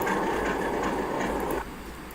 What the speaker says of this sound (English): These are only Canadian Pacific locomotives I have installed as the RS-18U from Control Point.